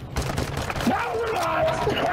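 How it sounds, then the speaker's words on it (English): Rapid bursts of gunfire in the video game Warzone 2, a fusillade of shots under continuous excited talk from players. "They keep on trying to shoot you."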